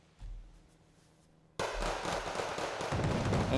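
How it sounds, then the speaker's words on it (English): A Bradley fighting vehicle fires on LSCR troops in the war strategy game Wargame Red Dragon, starting with a low thump and then breaking into a dense, loud crackling barrage of rapid shots. "Bradley shooting up the LSCRs"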